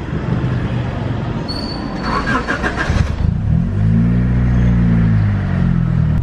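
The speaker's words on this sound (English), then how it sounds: "We're gonna do a cold start." Honda Civic EG hatchback cold start: a few seconds of cabin rustle, then the engine cranks and catches, settling into a loud, steady, slightly high idle close by.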